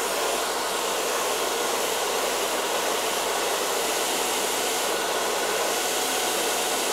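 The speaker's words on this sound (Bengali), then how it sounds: "আমি ডানার দিয়ে ড্রায়ার করছি গাইজ এবং বাঁ হাত দিয়ে আমি কিন্তু এটাকে রোল করছি" A handheld hair dryer blows steadily at close range while hair is rolled and styled in a barbershop, a continuous loud airy whoosh with no pauses.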